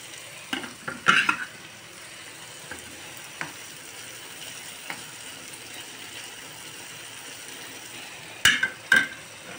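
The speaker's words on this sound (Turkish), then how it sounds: "Yumurtalarımı da çırpıyorum." Eggs being whisked for Turkish menemen with sucuk, heard as a few quick clattering bursts of utensil against bowl, near the start and again near the end, separated by quiet kitchen background.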